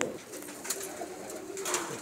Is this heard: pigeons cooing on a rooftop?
yes